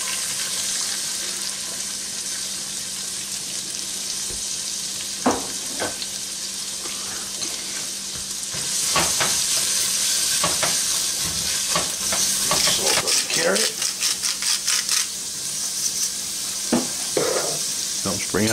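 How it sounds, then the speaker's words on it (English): Butter and oil sizzle and fry in a pot with carrots, a steady hiss that grows louder midway, broken by stirring and clattering utensil knocks nearby; no one talks. "Let that melt down and get hot. Okay, I'm hearing some sizzling."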